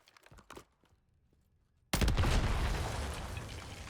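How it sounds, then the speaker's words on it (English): A cluster mine detonating in Call of Duty Warzone: a few faint pops, a brief near silence, then a sudden loud chain of rapid blasts that keeps rolling for about two seconds. "he's hit my cluster mine, the poor son of a gun"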